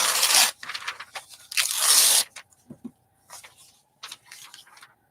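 Scissors fussy cutting a glossy magazine page, with loud crisp rasping bursts of paper alternating with shorter snips and quieter gaps, all close up.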